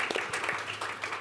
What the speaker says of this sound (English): And so we'll clap for that.